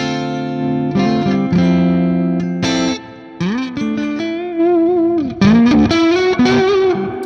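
A heavily distorted electric guitar through an AmpliTube 5 Mesa Boogie amp simulator on a tweed setting plays chords and bending lead notes, gritty and loud, with brief pauses between phrases.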